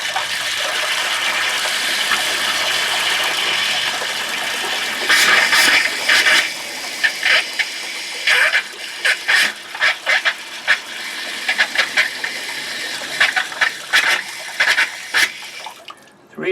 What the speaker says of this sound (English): You usually want to run it until it stops spitting.